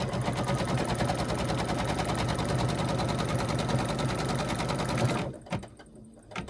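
A sewing machine stitches fabric pieces for a table runner, running at a steady, fast, even chatter close by for about five seconds before stopping abruptly, followed by a few soft handling sounds.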